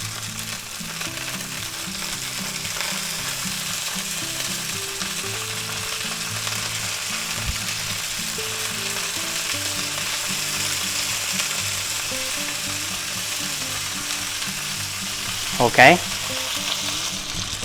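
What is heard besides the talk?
London broil steak frying in cast iron skillet, basted with butter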